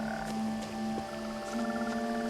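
Frogs croak in What Remains of Edith Finch, a steady chorus of repeated low croaks and higher trilling calls layered over soft background ambience, with no voices.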